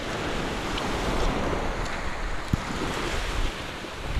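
Rough sea surf and strong wind roar continuously along the shore ahead of Typhoon Pepito, with gusts buffeting the microphone into a dense, unbroken wash of noise.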